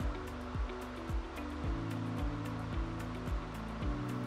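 A pool filtration pump re-priming as water fills the skimmer pipe, a steady rushing, gurgling wash broken by repeated low knocking surges every half second or so, with faint high splashes on top.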